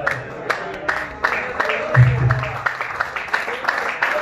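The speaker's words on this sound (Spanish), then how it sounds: "Dale ese fuerte aplauso a Cristo" Applause in a church service, uneven rhythmic clapping from a congregation with separate sharp claps and murmuring voices underneath, loud and close.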